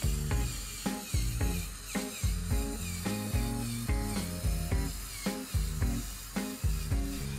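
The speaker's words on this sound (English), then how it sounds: "You can moreover hear the sound of the motor which vary on the obstacle." The motor of a LEGO Technic Foremost Delta 6x6 model whirs and strains as the vehicle drives over obstacles. The close, rhythmic grinding and clicking surges and drops in repeated bursts.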